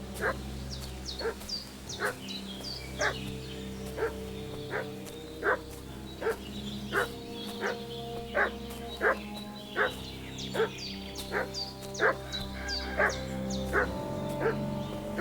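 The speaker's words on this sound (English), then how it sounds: "Why is the dog barking right now?" A dog barks repeatedly at a steady pace, roughly one sharp bark every second, moderately distant over a low background hum.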